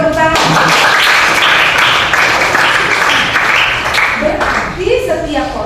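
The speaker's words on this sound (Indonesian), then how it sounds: "Oke, berikan tepuk tangan" Classroom applause from students, a dense wash of clapping that holds steady for about four seconds and then fades, followed by a voice speaking.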